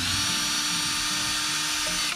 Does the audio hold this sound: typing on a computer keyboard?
no